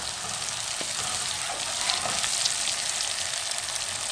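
Coarsely ground spices roast in a hot pan for an aloo shimla mirch sabzi, a soft, continuous sizzle with faint scraping stirs. Quiet and close, with no talking.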